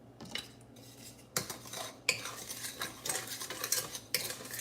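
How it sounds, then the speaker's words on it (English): A spoon stirs blackberry jam mixture in a pot, scraping and clinking against the metal in steady bursts, close and fairly quiet. "I'm just gonna stir that in"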